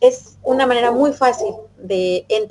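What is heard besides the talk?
No distinct noise like a dog, phone or traffic.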